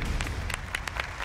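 A TV show studio audience claps in short, scattered bursts of hand claps, brief and moderately close, with no talking over it.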